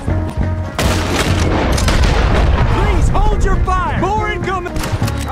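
Gunfire from Red Dead Redemption 2 plays as loud booming shots in rapid bursts, one after another with little pause, while a voice talks over the action.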